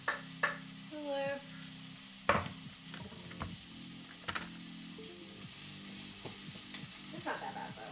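Onions fry on a hot griddle alongside Philly cheesesteak meat, giving a soft steady sizzle under scraping spatula strokes and clinks, with a voice briefly audible.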